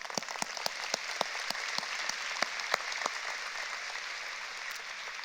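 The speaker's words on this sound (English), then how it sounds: "Sometimes, you can applaud." Audience at an annual church conference applauding, a steady wash of many hands clapping with sharp individual claps standing out, moderately loud, lasting a few seconds with no talking.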